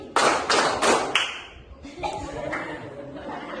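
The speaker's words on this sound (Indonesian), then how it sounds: "Tepuk 3 kali." Three sharp, close hand claps in quick succession, made as part of a counting exercise in a teacher coaching session. A voice follows, speaking over faint room noise.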